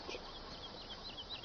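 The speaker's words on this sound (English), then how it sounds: "See you later, chickens!" Chickens on a Farming Simulator 17 farm cluck faintly in the background, with a few soft, scattered clucks and chirps over quiet ambience.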